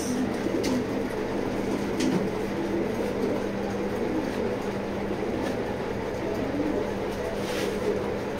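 Racing pigeons coo in a loft, a steady low warbling that runs throughout over a constant background hum.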